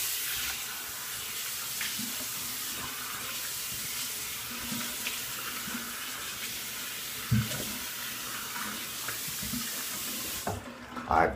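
Tap water runs steadily into a sink as a shaving razor is rinsed, with a broad continuous splash and a few brief knocks near the end.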